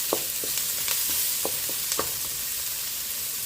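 Bitter melon fries in a pan and gets stirred, giving a steady sizzle with several short scraping knocks from the utensil scattered through the first two seconds.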